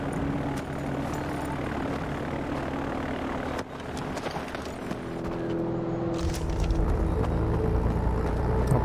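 Airplane taking off in the video game Far Cry 4, a steady moderate engine drone that rises into a deeper, louder roar toward the end, with no voices over it.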